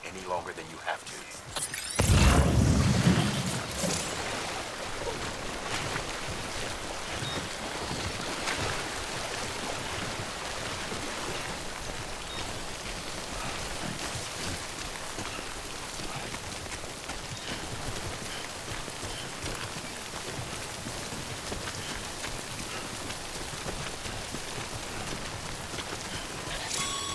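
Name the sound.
timefall rain falling in the video game Death Stranding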